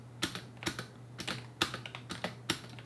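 Keys pressed on a high-end mechanical keyboard as a former pro gamer plays: five or six crisp clacks land in an uneven rhythm, close and fairly quiet over a faint steady hum.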